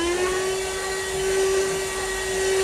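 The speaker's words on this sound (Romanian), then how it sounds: "apoi aspirăm și scaunele." A car vacuum cleaner runs steadily while vacuuming car seats, a continuous loud motor whine with a constant pitch and airy suction hiss throughout, with no speech.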